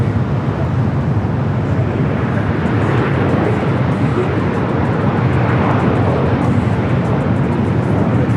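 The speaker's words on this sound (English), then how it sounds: "DHL Airlogic flight 587 coming from Shenzhen, a 777 freighter" A DHL Boeing 777 freighter in from Shenzhen at LAX, a loud, continuous jet roar with dense low rumble and broad hiss that stays level the whole time, no speech over it.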